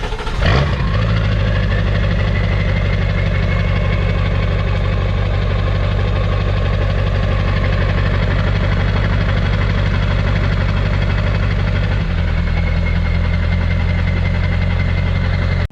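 A 7.3L diesel dually truck with no exhaust fitted cranks over and settles into a loud, steady idle with a clattering, knocking rumble, holding close and continuous, with a slight drop in pitch near the end.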